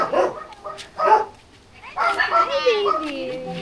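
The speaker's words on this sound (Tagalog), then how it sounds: "ang cute ng aso" A dog at a resort in Nagcarlan, Laguna gives a few short yips and barks close by, mixed with people and children talking around it.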